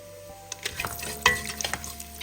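Whole spices such as cinnamon, cumin and fennel roasting in a hot pan, heard as light crackling sizzle with a few sharp pops and stir scrapes, close and brief with no talk.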